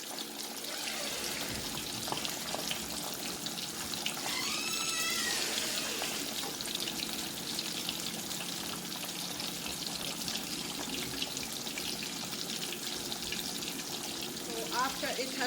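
Fish fries in oil in a pan, a steady close sizzle and crackle that runs without pause, with a voice talking over it.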